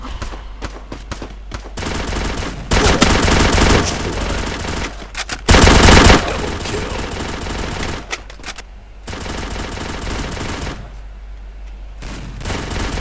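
Rapid bursts of automatic gunfire in the video game Free Fire, loud and dense, with a few brief pauses between volleys.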